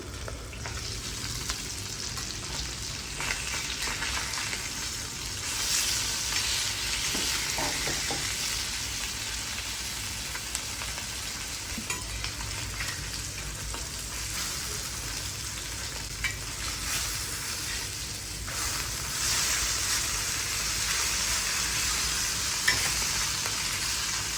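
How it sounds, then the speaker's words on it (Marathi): Pieces of rohu fish fry in a pan of oil with a steady, soft, continuous sizzle and faint occasional crackles. No voices are heard. "दोन्ही साईडून मच्छी चांगली फ्राय झाली आहे"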